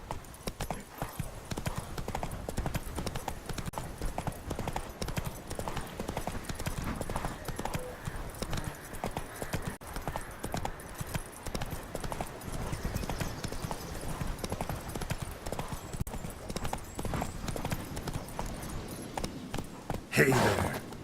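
Hoofbeats of the horse Roach in The Witcher 3, a continuous rapid clip-clop over about twenty seconds under game ambience, with a short whinny-like burst at the very end.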